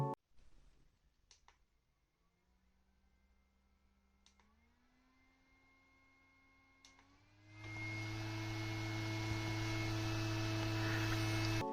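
A mini desk fan starts with faint clicks and a rising motor hum, then switches to a higher setting and blows as a loud, steady whir with a constant tonal hum right up close.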